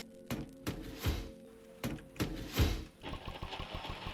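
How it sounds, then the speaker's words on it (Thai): A car engine in the Roblox game 99 Nights in the Forest cranks and sputters in short repeated bursts, then settles into a rapid mechanical chugging, fairly close and moderately loud. "มันคือเสียงสตาร์ทรถปะเนี่ย เสียงมันเหมือนเสียงสตาร์ทรถ"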